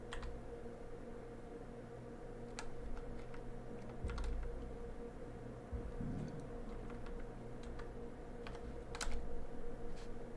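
Keys on a computer keyboard click in short, irregular bursts over a steady background hum, faint and fairly close, with no voice.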